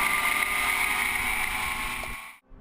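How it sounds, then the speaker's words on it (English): Steady, loud wind roar at Thunderhill Raceway buffeting the microphone, with a constant rushing hiss that cuts out abruptly near the end. "It is super windy today."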